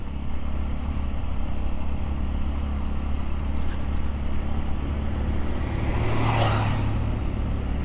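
Steady engine rumble and wind noise from a moving motorcycle on a road in Doña Remedios Trinidad, Bulacan, with a large oncoming truck briefly swelling past near the end.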